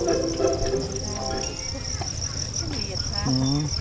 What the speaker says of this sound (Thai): อันนี้จิ้งหรีด